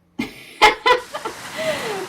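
Cartoon chickens in the animated film Chicken Run cluck close by in a few sharp, uneven bursts, followed by softer clucks and a faint rising squawk.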